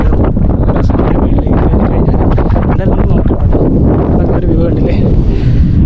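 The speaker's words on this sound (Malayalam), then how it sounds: "ഇവിടുന്ന് അതുപോലെ നല്ല കാറ്റടിക്കുന്നുണ്ട് ഒരു രക്ഷയില്ല നല്ല കാറ്റാണ്" Strong wind buffets the microphone nonstop at a hilltop viewpoint, a loud, dense roar of gusts that fills the whole stretch with no letup.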